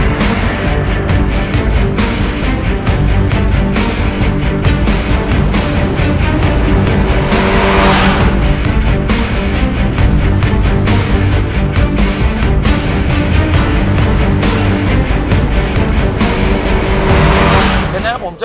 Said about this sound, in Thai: ความเร็วเร่งขึ้นไปเรื่อยครับตอนนี้90ผ่านไปที่100